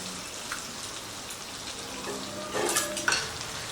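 Spice paste sizzles steadily in a pan of fried onion, garlic and softened tomato for a Bengali green jackfruit curry, a soft, even crackle with louder stirring scrapes near the end and no talking.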